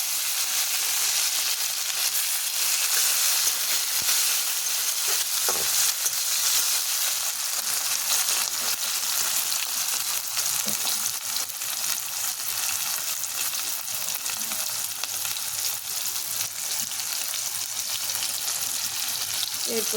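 Chopped ginger, tomato and green chili fry in hot oil in a pan, giving a continuous dense sizzle with occasional stirring scrapes over about twenty seconds, close and steady.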